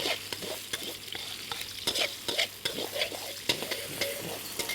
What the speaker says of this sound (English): And then cook that until the eggs have lifted from the pan.